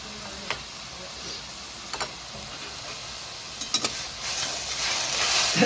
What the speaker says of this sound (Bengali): চর্বির থেকে যেটুকু তেল ছাড়বে তাতেই মশলা ভাজা ভাজা হয়ে যাবে